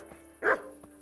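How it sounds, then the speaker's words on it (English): A single dog bark in the medieval open-world game Kingdom Come: Deliverance, one short, moderately loud yap standing alone against a quiet background with a faint second yelp near the end. "Shut up, doggy."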